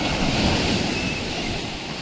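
Heavy surf roars steadily close by, with wind rushing across the microphone and no speech.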